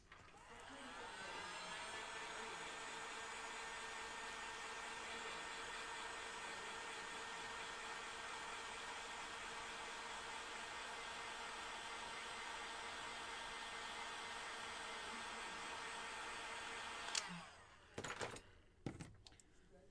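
A hair dryer blows a steady, loud whirring rush for most of the stretch while drying a coat of paint on a craft-kit bunny, then cuts off abruptly, followed by a few brief knocks and handling noises.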